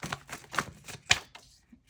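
Tarot cards being shuffled by hand, with a run of quick, papery riffling bursts and one sharper snap near the end before it falls quiet; close and fairly soft.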